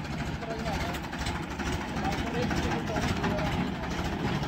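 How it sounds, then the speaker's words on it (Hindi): A Marathia tractor engine idles at a tractor pulling (touchan) competition in Khungai, a steady broadband rumble continuing throughout with people talking over it. "ये आ गया मराठिया ट्रैक्टर,"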